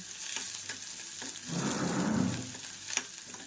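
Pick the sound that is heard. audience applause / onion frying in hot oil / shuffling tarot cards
onion frying in hot oil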